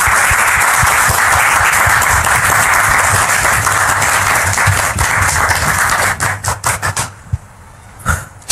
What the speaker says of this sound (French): Nous la recevons maintenant, très cher public, sous vos applaudissements